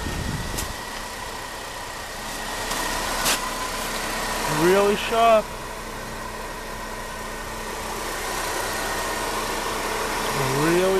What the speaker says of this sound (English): Motor runs really good, as you can hear.